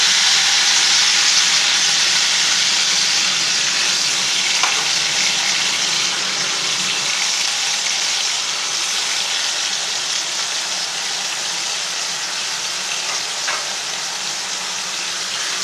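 Mushrooms fry in hot oil for a Tamil-style mushroom gravy, sending up a loud, continuous sizzle with the occasional scrape of stirring and no voices over it.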